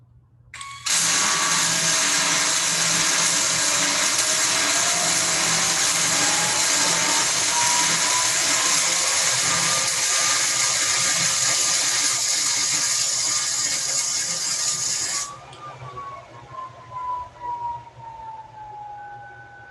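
A welding machine runs during a 2021 Arkansas SkillsUSA contest demonstration, giving a loud, steady hissing roar with a slowly rising whine that holds for about fourteen seconds, then cuts off, leaving quieter irregular rumbling.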